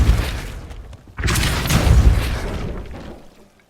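A Depulso force spell cast in the video game Hogwarts Legacy: a heavy booming blast that swells after a brief quiet moment and then slowly fades, loud and with no talk over it.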